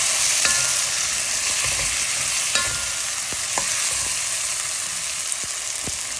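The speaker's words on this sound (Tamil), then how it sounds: "அந்த 2 தக்காளியையும் இந்த மாதிரி சின்ன சின்ன பீஸாக கட் பண்ணி அது உள்ளே போட்டு நல்லா வதக்க விடணும்" Chopped tomatoes sauté with ginger, onion and garlic in a pan for a crab gravy, giving a steady loud sizzle throughout, broken by scattered clicks and scrapes of a stirring spoon.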